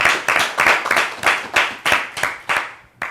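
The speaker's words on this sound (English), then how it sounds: "Let's hear a round of applause for Dr." A small audience claps for a guest speaker, Dr. Adams, at an indoor talk about depression; roughly a dozen distinct, fairly loud claps ring out in an uneven rhythm, close to the listener, with no voices over them.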